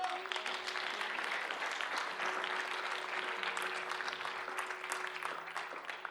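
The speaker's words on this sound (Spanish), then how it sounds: "De un aplauso fuerte al Señor" Loud, sustained applause from a church congregation at a youth campaign service, a dense wash of clapping that holds steady for several seconds with no pause.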